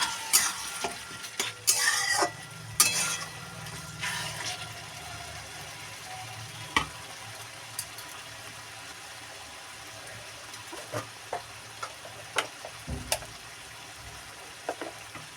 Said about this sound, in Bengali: এইবার ভালো করে মিশিয়ে নিতে হবে